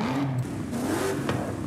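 A 7.2-litre V8 engine in the Forza Horizon 5 racing game revs up and holds steady, a loud, continuous engine drone that rises and falls in pitch for under two seconds, with no talk over it.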